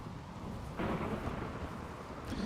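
Thunder in RimWorld swells into a soft, rolling rumble about a second in and then fades back to a rainy background hiss. The sound is fairly quiet and has no voices.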